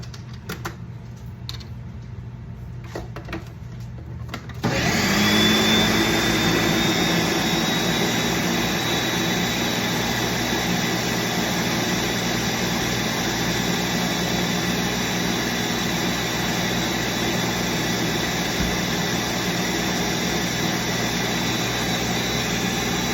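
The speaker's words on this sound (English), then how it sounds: "now we're gonna blend it one last time, taste it, and make sure that it is good to go" A blender whirs steadily on Cuban bocadito spread, switching on after a few seconds of quiet clatter and then holding a loud, continuous motor drone for the rest of the stretch.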